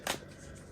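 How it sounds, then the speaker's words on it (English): Oracle cards give a brief riffling shuffle, a single quick burst of papery flutter up close and faint, followed by quiet handling. "So I'm gonna pull cards up around soul evolution."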